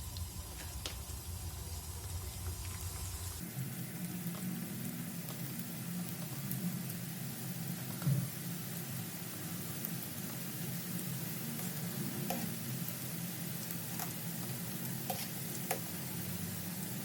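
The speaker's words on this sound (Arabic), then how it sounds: "عاد غادي نقليهم في زيت اللي تكون سخونه" Briouats, Moroccan stuffed pastries, sizzle steadily in hot oil in a frying pan, a continuous loud crackling hiss from start to finish with occasional sharper pops and no talk.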